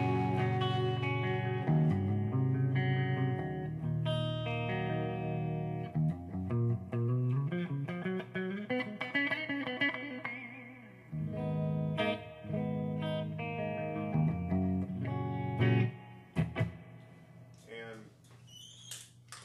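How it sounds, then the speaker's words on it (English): Shimmering electric guitar chords and single-note lines through a Crate Blue Voodoo 120H amp, thickened by a Boss Chorus Ensemble with Delta Labs digital delay echoes trailing behind, played continuously at moderate volume. "I'm running a Boss Chorus Ensemble and a Delta Labs digital delay"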